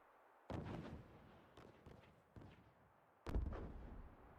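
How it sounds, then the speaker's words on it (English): Battle explosions in the Xenoblade Chronicles 3 video game: several separate booming blasts, each a sharp hit with a short rumbling tail, spread apart with quiet gaps between them. A louder burst comes near the end. "Explosions! A battle!"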